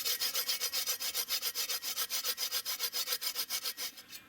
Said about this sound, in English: man, that's just made for sawing through some stuff